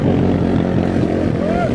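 A 470cc motorcycle engine revs up close out on the street, a loud, rough, throaty drone with strong low harmonics that rises briefly near the end.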